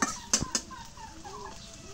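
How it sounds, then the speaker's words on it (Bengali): Pigeons coo softly in the background of a home kitchen, their low wavering calls running steadily under a few sharp clatters of cookware near the start. "কবুতরগুলো আজকে কি ডাউন ডাকতেছে গো"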